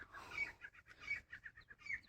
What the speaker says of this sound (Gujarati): જો પંખી કેટલા મસ્ત અત્યારે હવાર હવારમાં બોલે